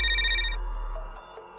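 A telephone rings in a Hindi cartoon as a boy places a call to a witch: a bright electronic ringing tone that sounds loud for about half a second, then gives way to faint, scattered ringing blips.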